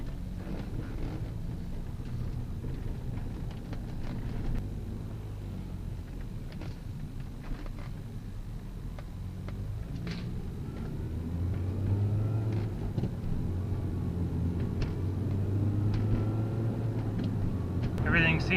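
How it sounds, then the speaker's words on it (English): A Mini Cooper, just fitted with a new wheel bearing, drives on a test run, giving a steady low engine and road rumble from inside the cabin throughout, with the drone swelling slightly near the end. "we are good to go for a test drive"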